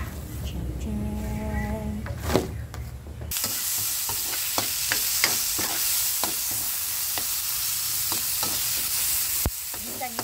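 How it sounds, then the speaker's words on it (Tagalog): Tomato, onion and garlic sautéing in a pan for a fish dish, a loud steady sizzle that surges in after a few quieter seconds, with repeated spatula scrapes and clicks over it. "Ginigisa na. Para sa ardilyo na isda."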